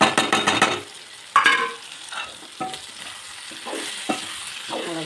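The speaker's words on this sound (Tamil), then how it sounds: "தக்காளி நல்லா வதங்கிட்டு இந்த அளவுக்கு வதக்கணும்" Tomatoes are stirred and sautéed in a hot pan for Tamil tomato chutney, giving a run of quick rhythmic scraping strokes, then a softer sizzle broken by occasional spatula scrapes, close up.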